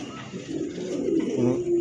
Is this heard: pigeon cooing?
yes